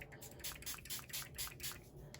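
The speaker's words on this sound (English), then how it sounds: "Just gentle spritz on that." A small spray bottle filled with water spritzes onto watercolour card in a series of about seven quick, soft puffs, faint and close, with no talking.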